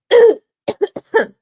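A person with a lingering cough lets out one harsh cough followed by a quick series of short throat-clearing bursts, close and loud.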